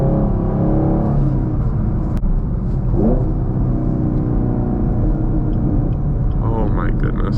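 Deep, loud exhaust rumble from a 2024 Chevy Camaro SS Collectors Edition with a manual gearbox, heard from inside while driving, droning steadily with a brief rev swell and some talk mixed in.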